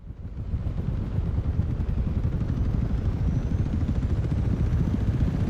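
The Dune ornithopter's engine in Microsoft Flight Simulator winds up into a steady, dense low rumbling roar with a faint rising whine above it, loud and continuous, with no talking.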